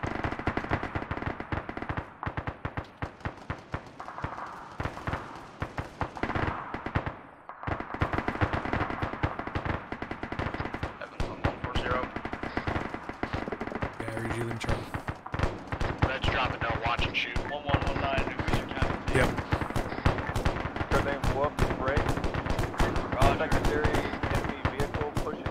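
Gunfire in a military video game, dense rapid machine-gun bursts and scattered shots running almost continuously, loud and close, with a brief lull early on and voices talking underneath.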